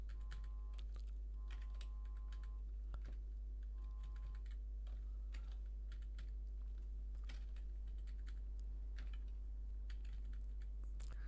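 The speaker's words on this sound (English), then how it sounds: "Now this is quite a lot of typing," Quick keystrokes on a computer keyboard while Python code is entered, a faint rapid patter of clicks over a low steady hum, with no voices.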